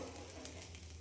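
Cowpea pods roasting in a pan give a quiet, steady sizzle and crackle for about a second, with one faint click partway through.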